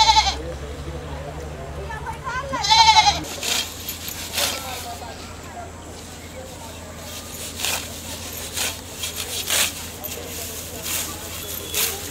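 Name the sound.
goat bleating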